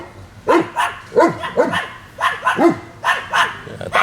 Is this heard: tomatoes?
no